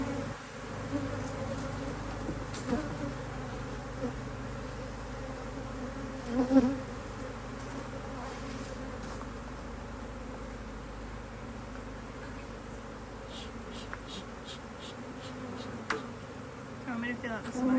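Honeybees drone steadily around an opened HiveIQ hive during a beekeeping inspection, a close, continuous buzz with individual bees passing near the microphone and occasional faint handling noises.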